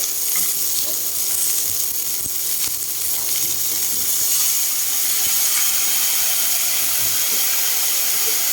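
Pechay and tofu sauté in a hot pan with soy sauce, a loud, steady sizzle and hiss running throughout with occasional light clinks of stirring.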